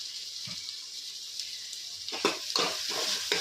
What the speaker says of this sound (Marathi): आता या स्टेजला आपण वाटाणा ह्यात फ्राय करून घेणार आहोत